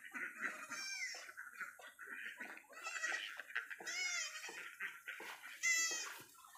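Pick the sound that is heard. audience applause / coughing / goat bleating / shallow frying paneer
goat bleating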